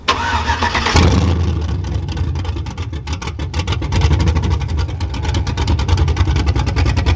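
A truck engine with a cam and open headers cranks over and fires up with a loud burst, then settles into a lumpy, choppy rumble that pulses steadily, close up and without talk.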